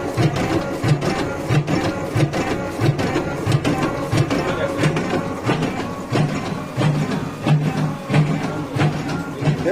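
A batasa sugar-candy making machine clatters in a fast, regular mechanical rhythm during a home training session in Coochbehar, its repeating knocks and whirs loud and close throughout.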